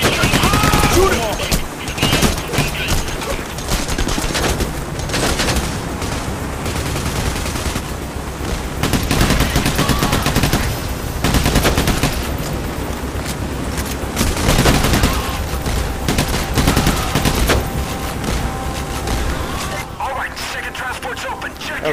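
Gunfire in the video game Payday The Heist, dense continuous bursts of automatic weapons and rapid shots throughout, loud and close, with players talking over the constant shooting.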